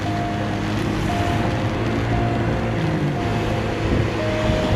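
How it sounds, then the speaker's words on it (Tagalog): Loud, continuous floodwater roaring through a drainage channel, steady and turbulent with no pauses. "Rumaragasa yung tubig dito sa pinaka-drainage, oh."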